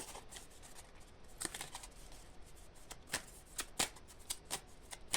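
Ho'oponopono oracle cards shuffled by hand in a quiet room, a series of soft riffling bursts and crisp snaps at irregular intervals, close and fairly faint.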